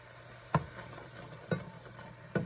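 A raspberry mixture simmers in a pot on the stove, three distinct close bubbling pops roughly a second apart over a soft steady cooking hiss, with no voices.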